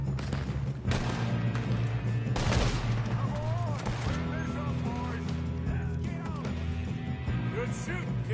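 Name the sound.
gunfire in video game Red Dead Redemption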